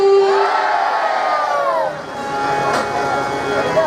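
A devotional crowd at a Ram Katha gathering loudly chants praise of Ramlala in a rising, shouted chorus. A leading voice is heard first, then many voices answer together and swell into cheering.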